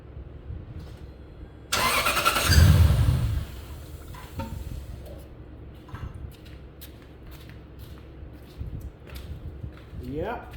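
A Lexus LS430 engine cranks over with a loud, close starter churn lasting about two seconds, then the noise drops back to quiet garage ambience with light clicks and handling sounds.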